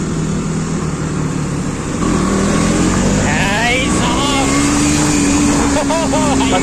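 A powerful car engine runs in second gear, a loud close roar that swells as the throttle opens and climbs steadily in pitch, with voices audible over it.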